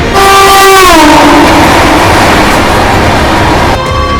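A loud, sustained train horn blares close by, its pitch dropping, over the steady rumble and roar of a passing Amrit Bharat Express train near SMVT Bengaluru railway station.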